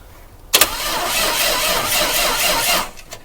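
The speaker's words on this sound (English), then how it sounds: "So now we should be able to bump the starter." The starter on a 1966 Dodge A100 van cranks the cold engine in one burst of about two and a half seconds, a loud, close, rattling whir that starts with a clunk and stops abruptly without the engine catching.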